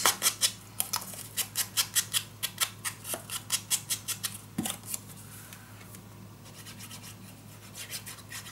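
Scissors snip through paper for a mini album in a quick, regular series of about twenty close, crisp cuts, then the snipping stops and a soft rustle follows.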